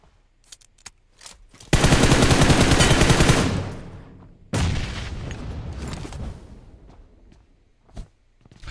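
Video game gunfire erupts in a dense, loud automatic burst, then a heavy blast from a grenade hits and trails off into scattered shots and footstep-like taps, with no talking.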